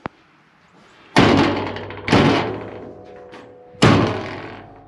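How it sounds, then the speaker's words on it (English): The cab door of a Cat 320 excavator swung shut several times: a small click, then three loud, heavy metallic slams with ringing tails, spaced about a second apart and close to the microphone. "Gotta slam the door."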